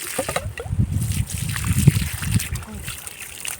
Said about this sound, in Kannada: ಓಪನ್ ಮಾಡಿ ಕ್ಲೀನ್ ನೀರು ಬರೋವರೆಗೂ ಈ ಥರ ಹೊರಗಡೆ ಬಿಡಬೇಕು